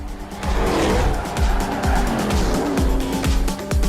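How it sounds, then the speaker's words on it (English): A Dodge car spinning back around during a high-speed street race, its engine revving hard in repeated surges while the tyres squeal and skid, loud and close. "swaps cogs and spins the Dodge back round the right way"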